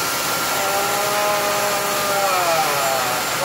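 A Shizuoka vertical machining center with its spindle running, a steady, close, smooth whirring hum with faint shifting tones, continuous and even throughout with no talk.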